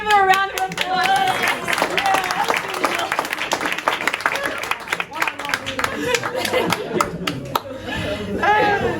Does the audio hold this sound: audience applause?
yes